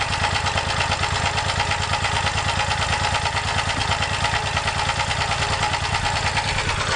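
A small generator engine running on hydrogen injection, a loud, close, fast rhythmic chugging that stays steady and even throughout.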